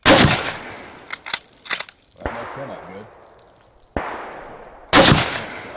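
Rifle shots from a French WWII MAS-36 chambered in 7.5x54mm, fired outdoors at targets: three sharp, loud reports, with the first and last ringing longest, separated by softer handling clatter and someone speaking briefly between shots.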